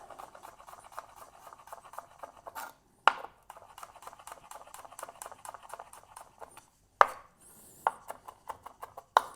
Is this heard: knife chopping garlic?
yes